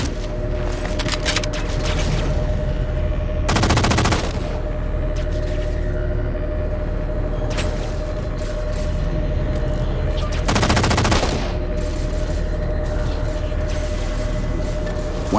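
Sustained gunfire fills a Halo 4 battle aboard a gondola, with dense automatic bursts and booming blasts over a constant loud mechanical rumble and two sharper peaks of heavier fire.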